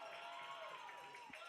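High school football crowd cheering and shouting in the closing minutes of a Mancelona vs Charlevoix game, a faint, distant roar of voices lasting barely over a second.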